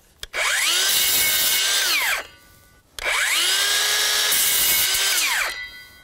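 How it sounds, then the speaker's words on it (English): A power saw cuts excess pieces off the corners of a wooden tomato frame: two loud, close cuts, each with a rising whine as the blade spins up, a sustained buzz, then a falling pitch as it winds down. "Then cut the excess piece off on all four corners."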